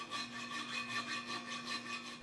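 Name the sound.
filing out holes in a metal part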